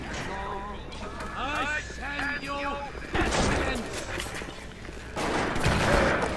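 Gunfire in BioShock Remastered on PS4 Pro: someone talks first, then loud shots burst out in two clusters, near and sharp, mixed with game noise.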